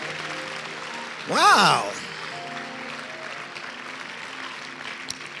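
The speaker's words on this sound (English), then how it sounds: "Shout a big amen and clap for Jesus." Congregation clapping and cheering during a church service, a short loud burst of applause and voices lasting under a second, then settling back under sustained music and background sound.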